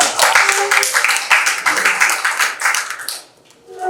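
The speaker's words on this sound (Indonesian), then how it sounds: "tepuk tangan buat Fiona dong" Classmates clap for a student called up to present in a classroom lesson, a short burst of quick overlapping claps that stops near the end, followed by a faint sound.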